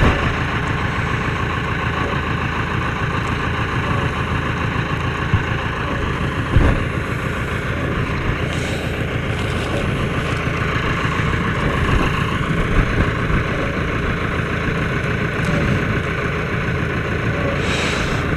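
Tractor engine idling steadily in a broccoli field during manual harvest, a continuous mid-level rumble throughout with faint rattles and no speech.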